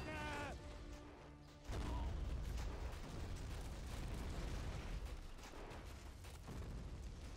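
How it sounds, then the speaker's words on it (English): A heavy grenade blast in Battle of Empires 1914-1918, a World War I game set on the Hindenburg Line, erupts sharply after a brief tonal sound and leaves a rumbling, crackling wash of battle noise. "Throw grenades in on this guy."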